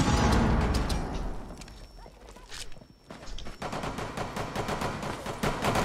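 Gunshots in a shooter video game come as rapid bursts of automatic fire that dip briefly midway and then resume, close and busy, with faint voices mixed in.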